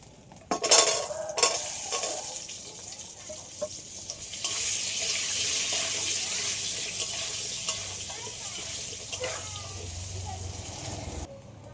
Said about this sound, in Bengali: তেলের মধ্যে সামান্য পরিমাণে হলুদের গুঁড়ো দিয়ে দেবো এবার মাংসের আলুগুলো ভেজে নেব